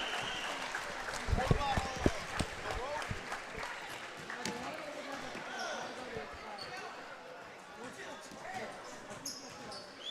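Applause and crowd noise in a high school gym at a girls' basketball game between Shelbyville and Beckville, mixed with sharp ball bounces and an announcer's voice, fairly faint and diffuse.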